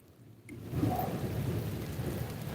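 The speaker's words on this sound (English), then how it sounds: "Wait for the rain to stop." Steady rain with a low rumble of thunder near a bridge where people are fishing, the downpour swelling after a quiet start and holding as a dense, continuous wash.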